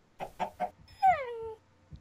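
Minecraft chicken sounds: a few short clucks followed by a rising-then-falling squawk, fairly quiet with brief gaps between calls.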